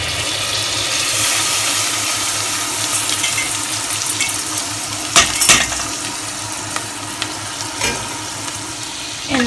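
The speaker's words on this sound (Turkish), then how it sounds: "Pirinçlerimi kavuruyorum arkadaşlar." Rice toasting in hot butter in a pot for Turkish rice pilaf with vermicelli, a steady close sizzle and crackle with occasional scraping stirs and clinks of a spoon against the pot.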